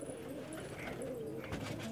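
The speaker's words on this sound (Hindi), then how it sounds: "अभी ये कुछ लड़ने वाले नए कबूतर अपने खोलेंगे" Young fighting and fancy pigeons coo softly near a loft, a faint low murmuring call over quiet background noise in a short stretch.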